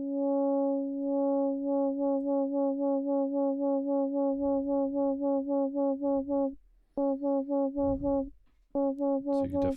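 A synth note runs through Ableton's Auto Filter as the LFO rate is changed, producing a fast, even pulsing tremolo of harmonic tones that briefly drops out and resumes, with faint background noise between pulses.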